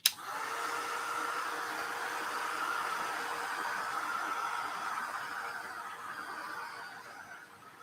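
A dryer or heat tool blows steadily while drying a mixed media craft tag, a continuous airy whoosh that starts with a sharp click and runs loud and even for several seconds with no talking.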